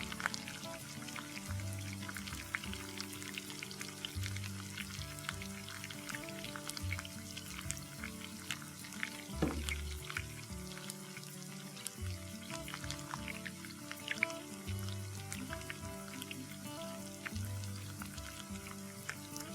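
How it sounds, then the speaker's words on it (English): Scoops of dahi bhalla batter fry in hot oil, giving a steady, dense crackling sizzle that runs throughout, with a few faint spoon or ladle knocks near the middle. "Let's begin to fry."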